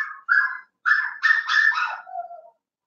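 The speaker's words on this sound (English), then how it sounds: "Hobie is barking because he hears me talking." A dog barks and yips in a quick indoor burst of several close, loud calls, ending in a softer whimper.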